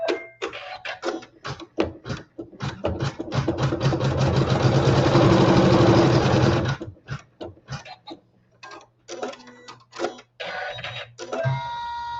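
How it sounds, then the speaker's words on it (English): A sewing machine stitches a seam through quilting fabric for a lattice blossom block: short stop-start bursts of rapid mechanical clatter, then one long steady run of stitching, then more brief bursts. It is close and loud with no talking. "we'll sew our seam"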